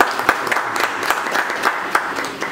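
A small audience at a literary and cultural gathering claps in a brisk, fairly even rhythm. The individual claps are close and distinct, and the applause is brief.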